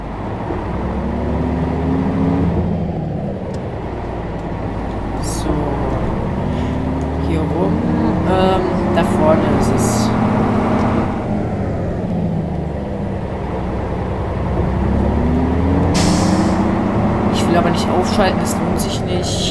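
Mercedes-Benz O407 city bus in the Omsi 2 video game driving very slowly toward its first stop, a steady engine and air-system drone with pitch rising and falling, loud and continuous under someone talking throughout.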